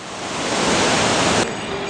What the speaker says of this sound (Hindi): कितनी ऊंचाई से झरना बहता हुआ, और मां मंदाकिनी में चला जाता है झरना